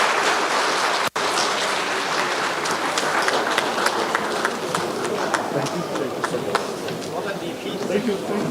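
An outdoor audience applauds the Deputy President at a Harvest Day event on a commercial apple farm, a broad, sustained patter of clapping with scattered sharper claps, continuous and fairly loud.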